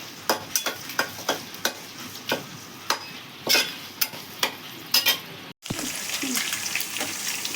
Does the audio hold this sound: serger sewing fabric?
no